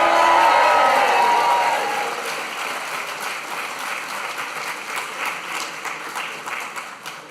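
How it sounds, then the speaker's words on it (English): A graduation ceremony audience bursts into loud applause and cheering, strongest at the start, then settles into steady sustained clapping with scattered whoops across the hall. "Cheering and applause is absolutely permitted."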